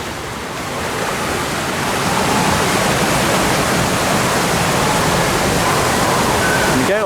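Loud, steady rushing water on a log flume boat ride at Chessington World of Adventures, a broad continuous roar and splash close by that swells slightly and holds without a break.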